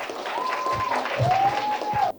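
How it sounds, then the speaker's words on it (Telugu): Applause from an audience at a community cultural festival in Gachibowli after a song performance, brief and moderately loud, with a melodic tone and voices mixed in over the clapping. "ఒక్కసారి గట్టిగా చప్పట్లు తోటి"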